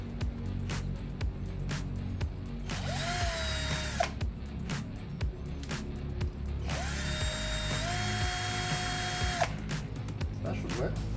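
A power drill run at its lowest setting to polish a car headlight lens, with a steady whine that rises in two bursts of several seconds and spins down between them. Speech is heard alongside.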